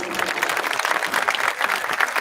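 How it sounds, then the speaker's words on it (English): An audience at a high school graduation ceremony applauds, a dense, even clatter of many hands clapping throughout this short burst. "Why don't we give those speakers another round of applause?"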